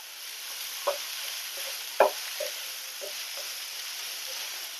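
Onions and turmeric powder sautéing and stirred in a pan, a soft steady sizzle with a few sharp clinks of the spoon against the metal, close by and alone.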